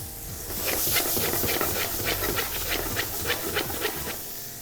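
Onion, carrot and celeriac garnish sizzling as it roasts, a steady loud hiss with crackling spits running throughout, no voices.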